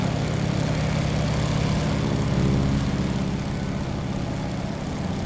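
Radial engine of a Stearman A75 biplane droning steadily in Microsoft Flight Simulator 2024, a loud, continuous low propeller hum throughout with no pauses.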